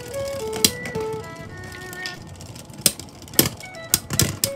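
Beyblade X spinning tops, Keel Shark against Dagger Dran, clash in a stadium with several sharp metallic clacks and impacts over a steady whirring rattle, with a faint musical tone early on.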